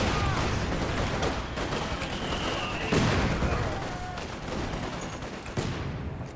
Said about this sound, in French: Et la grenade sur le Yeg.